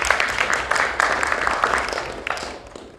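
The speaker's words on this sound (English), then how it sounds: "So give Emma a big round of applause for that." A small audience applauds Emma at a speaking club evaluation session, a fairly light clatter of clapping that gradually fades over a few seconds.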